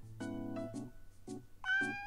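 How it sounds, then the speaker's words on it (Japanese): A cat in the Stand My Heroes otome game meows several times in a row, short close tonal calls with a longer, higher final meow, clear and alone. "お、猫ちゃん。"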